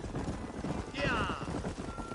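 Hoofbeats of several horses on the move, with a horse neighing partway through, while someone talks over the top in a Western game.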